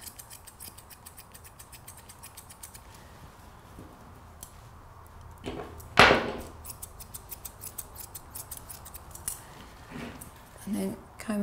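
Scissors trim a Labradoodle puppy's fur, giving rapid, crisp snipping in quick bursts close to the listener, with a louder rustle midway and a few pauses between runs of cuts.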